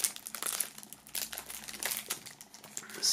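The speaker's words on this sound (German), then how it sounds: "Die kommen natürlich auch nochmal in Folie. Aber auch hier werden wir mit Hilfe des Messers" A knife slices open plastic foil wrapping on a set of cards, giving close, continuous crinkling and crackling of thin plastic with small tearing bursts.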